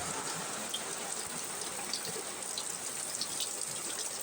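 Water leaking from both sides of a workshop pipe and gushing into a drain pipe, a steady moderately quiet rushing trickle with no talking.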